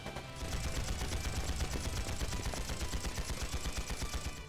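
Sustained rapid gunfire in the video game Trails into Reverie, a loud, evenly spaced burst of shots lasting several seconds, with no voices over it.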